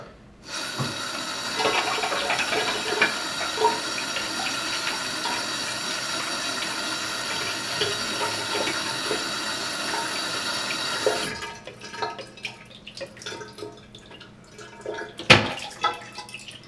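A toilet with a Rundle tilt flush valve flushes on long flush mode, a steady rush of water for about ten seconds, then cuts off, leaving faint drips and trickling plus a sharp clunk near the end.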